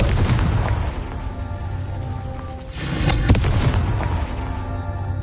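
Explosive fire-spell blasts in the Hogwarts Legacy video game, heard as loud booming bursts over a dense, rumbling game soundscape, with a stronger impact surging midway through.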